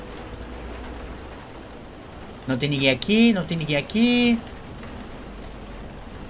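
Heavy rain falling outside in the horror game FNAF: Back in the 80's, a steady low wash of downpour running throughout while someone speaks briefly over it.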